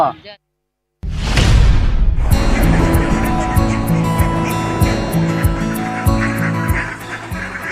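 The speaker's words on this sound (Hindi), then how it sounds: "झुंड में सैकड़ों की संख्या में बत्तख, फार्म में हजारों बत्तख" A flock of hundreds of ducks on a duck farm in Lohardaga quacks and honks loudly and continuously after a brief whoosh, with voices mixed in.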